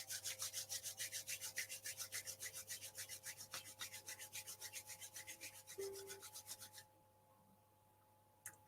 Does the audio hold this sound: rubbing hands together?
yes